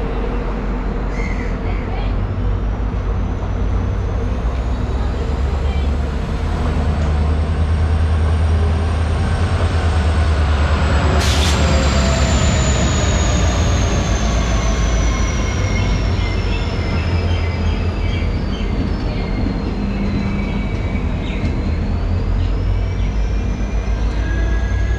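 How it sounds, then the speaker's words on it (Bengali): A Dooars tourist special train with a Vistadome coach pulls into a railway platform on the NJP to Alipurduar line, with a loud rolling rumble, rising metallic wheel squeal and clanks passing close by. "ট্রেন প্ল্যাটফর্মে ঢুকছে।"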